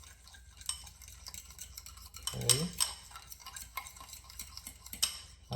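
A spoon scrapes and clinks through carbonara pasta in a pan, producing irregular close stirring scrapes and metallic taps, with a brief word spoken at one point.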